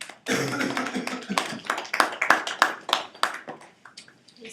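Scattered applause from a small audience after a persuasive speech about Planned Parenthood funding, a brief patter of clapping that rises quickly and then thins out to a few last claps.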